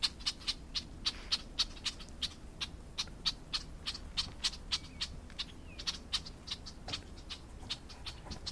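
Birds give repeated short, sharp chirps at a regular pace, fairly close, over a low outdoor rumble.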